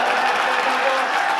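A crowd clapping at an Independence Day event, a dense burst of applause that is loud and close and fills the whole short moment.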